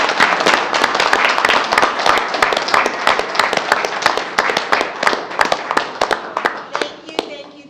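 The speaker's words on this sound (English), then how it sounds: "Can we clap?" Audience at a city council meeting applauding after a resolution passes, dense sharp claps building loud and close then thinning out and fading over several seconds.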